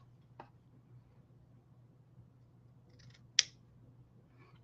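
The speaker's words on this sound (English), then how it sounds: "I'm going to take my scissors" Scissors snip ribbon for a scrapbook album in a quiet room: two separate crisp cuts a few seconds apart, close and sharp, with light handling noise between them.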